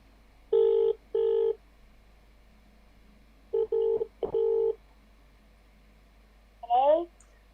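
During a phone-a-friend call on the Who Wants to Be a Millionaire game show, a telephone sounds pairs of clear dialing beeps, two more after a pause, then a short warbling ring. The sounds are loud and close, with quiet gaps between them.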